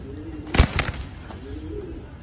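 Racing pigeons in a loft give a couple of soft, close coos, with a louder burst near the start. The coos sit over a low, steady background hum.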